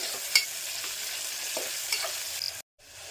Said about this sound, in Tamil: நல்லா வெங்காயம் வதங்கி வரட்டும்.